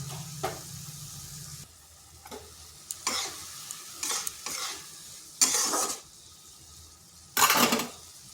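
Ground spices, turmeric, coriander and cumin powder, tipped into a hot pan for a lentil dish with drumstick leaves, then stirred with a few scraping strokes and soft bursts of sizzle, close and fairly quiet, with no talking.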